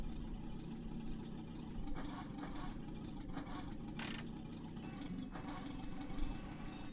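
A car engine in The Long Drive video game runs steadily at a low idle, a constant rumble throughout with faint background sounds over it.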